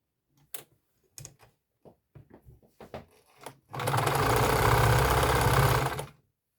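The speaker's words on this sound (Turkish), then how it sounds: "Onlara tekrar katlıyoruz ve iki kenarından dikiş dikiyoruz." Sewing machine stitching along the folded edges of a strap for a bag made from old denim jeans, preceded by a few scattered clicks and handling knocks, then a dense, steady close-up whir of rapid stitching for about two seconds.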